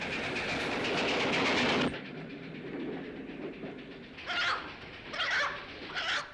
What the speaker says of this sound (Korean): They're just moving the train around.